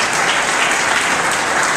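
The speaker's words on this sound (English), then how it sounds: "Please give yourself a round of applause for that." Dense, loud applause from a large crowd at a San Francisco ADA celebration, a continuous roar of clapping that holds steady without any talk.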